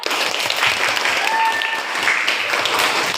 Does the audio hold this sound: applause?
yes